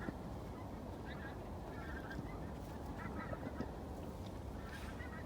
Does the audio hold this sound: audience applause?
no